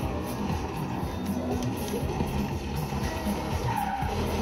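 A car drifting in a video game, with a continuous loud tire squeal and skid over a droning engine, close and unbroken for the whole stretch.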